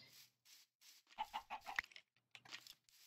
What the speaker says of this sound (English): Oh, you killed the chicken!